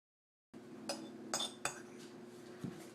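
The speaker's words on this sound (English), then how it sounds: "I'm just scooping it with a regular old teaspoon." A regular teaspoon scoops loose herbal tea from a container, producing a few light metallic clinks and taps, scattered irregularly over quiet background.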